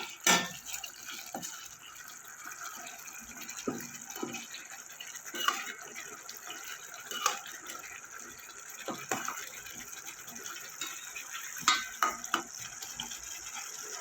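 Rohu fish masala curry simmers in a pan with a soft, steady bubbling and occasional light splashes and clinks, fairly faint and close throughout.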